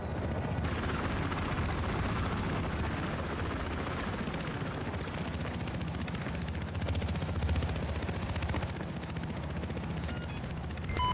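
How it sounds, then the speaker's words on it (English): Loud, dense video-game battle din in a Battlefield-style shooter: a transport helicopter's sustained rotor roar mixed with continuous gunfire and explosions, steady throughout with no clear speech. "Transport chopper."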